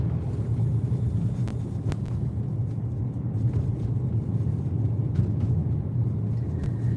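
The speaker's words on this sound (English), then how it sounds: "Driving in a winter wonderland. In a horrible storm." A car drives through a heavy lake effect snowstorm on the way to Hamilton, a steady loud low rumble of engine and road noise with wind buffeting, continuous throughout and without talk.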